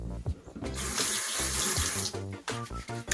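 A bathroom sink tap runs at full flow, water splashing steadily into the basin, with the pitch and splash shifting briefly as hands move under the stream, close and loud, no talking.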